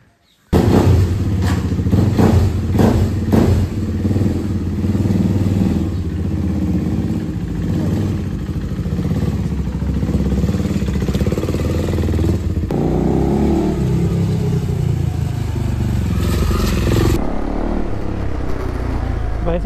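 A motorcycle on a short ride around village roads, its engine running loud and close throughout with gear changes and throttle shifts, wind rushing over the microphone, ending abruptly.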